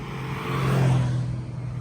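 A Mercedes 300 SL roadster drives past at a car week event, its engine swelling to a broad low rumble mid-clip and fading again, moderately loud with no talk.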